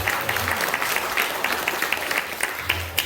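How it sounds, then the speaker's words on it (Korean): A congregation at a church celebration service gives encouraging applause. The clapping is fairly faint and fills a steady, diffuse wash across the whole three seconds, with no speech over it. "다시 한번 격려의 박수를 쳐드리겠습니다"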